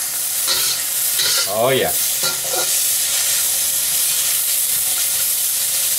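Plain water hitting a hot pan of cabbage and scallop stir-fry sets off a loud, continuous hiss and steamy sizzle, with a brief spoken exclamation early on.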